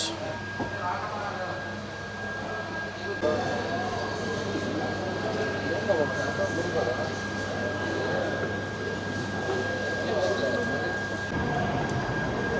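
The Hampi Express pulls out of Bellary station with a steady low rumble, wheels rolling and a sustained tonal hum, heard from inside the train with a voice talking over it.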